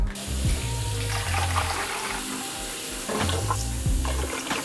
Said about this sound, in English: we're going to pour in all the juice and try to pour as slowly as possible